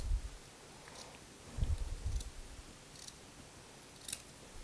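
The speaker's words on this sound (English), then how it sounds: "now what I just need to do is come back in here and carefully trim them" Scissors trim shoulder pads for a Vogue 8804 cardigan jacket in a series of faint, close, crisp snips spaced irregularly, with soft handling rustles between cuts in a quiet room.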